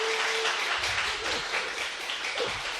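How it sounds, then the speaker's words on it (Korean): Audience applause at a Bible lecture on the Gospel of John, a short burst of hand clapping from a room of listeners, dense and fairly loud, tapering slightly toward the end. "열렬한 박수 때문에 너무 힘이 나고 감사합니다."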